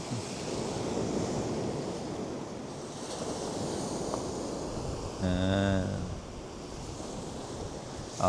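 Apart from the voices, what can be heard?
ocean waves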